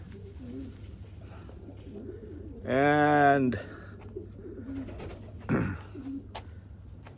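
Egyptian Swift pigeon giving a loud, throaty coo lasting under a second, near and clear, with a shorter second call a few seconds later over a low background hum.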